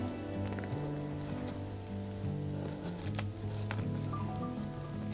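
Crisp, fragile fabric from a quilt top crinkles under the hands. There is a soft, irregular patter of small rustles and light crackles close by, fairly quiet, with a faint tonal background underneath.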